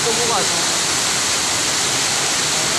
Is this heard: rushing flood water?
yes